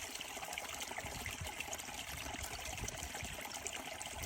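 A river flows past reeds in Estonia, a steady broadband rush of running water that holds at an even level throughout, with no voices over it.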